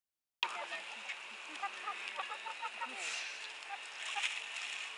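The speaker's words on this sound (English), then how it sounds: "Look at all these chickens." Chickens cluck in short repeated bursts close by in a farmyard, with people talking over them.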